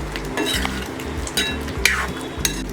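A spoon stirs red amaranth greens with spices and fenugreek in a pan, giving a series of scraping strokes and occasional sharp metallic clinks against the pan over a soft sizzle, close up with no talking.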